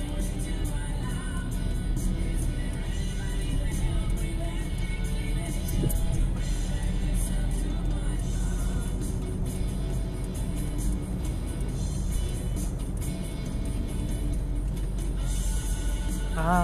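Heavy road traffic heard from inside a moving vehicle: a constant, dense low rumble of engines and tyres that runs unbroken and moderately loud throughout, with no clear voices.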